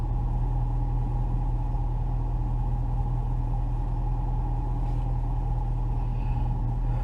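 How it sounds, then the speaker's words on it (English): A truck's engine rumbles low and steady from inside the cab while driving slowly through a construction zone, with no talk over the drone. "Sorry, I'm sitting here driving in the truck."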